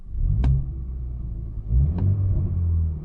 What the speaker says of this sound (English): Let's do a couple revs here.